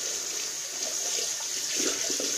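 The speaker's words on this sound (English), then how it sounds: "first rinse out the brush" Running tap water rinses out a shaving brush at a sink, a steady close hiss with faint splashing as the brush is worked under the stream.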